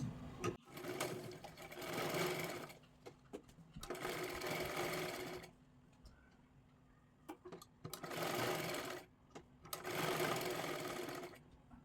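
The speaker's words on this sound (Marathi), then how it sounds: "आता इथे आपल्याला अशा पद्धतीने शिलाई मारून घ्यायची आहे" A sewing machine stitches a blouse in four or five close bursts of rapid, even whirring, separated by brief pauses with faint handling clicks.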